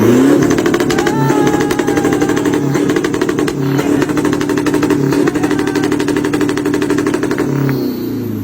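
A Toyota Hilux lowered pickup with a manual transmission, street-tuned and fitted with a fabricated muffler, revs hard up close: a loud, raspy, rapid-pulsing exhaust roar holds steady with small rises and dips throughout.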